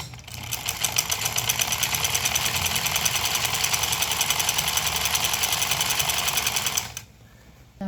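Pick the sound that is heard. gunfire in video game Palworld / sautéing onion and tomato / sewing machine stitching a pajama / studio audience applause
sewing machine stitching a pajama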